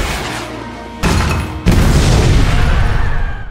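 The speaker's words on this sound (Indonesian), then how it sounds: "Gradov menembakkan roket ke arah gedung hingga menyebabkan ledakan besar" A rocket strikes a building in an action film and sets off a huge explosion: a sudden booming blast, then a second, heavier hit that rolls into a loud, sustained rumbling roar.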